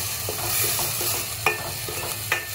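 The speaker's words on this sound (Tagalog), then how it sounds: "Next, ang ating coconut gravy. Okay. Mix, mix, mix." Coconut gravy being stirred in a pan, a soft bubbling sizzle with a few distinct scrapes and taps of the spoon, close and clear with no speech.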